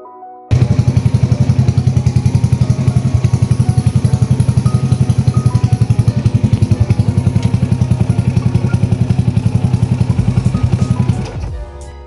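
A Yamaha Jupiter Z motorcycle with a worn clutch housing idles close by, its engine beating in a fast, even, clattery rhythm for about ten seconds before cutting off abruptly.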